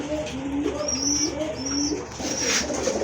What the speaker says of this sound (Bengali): আরেক জোড়া কবুতর মিলি কালারের ভিতরে রাজগোল্লা কবুতর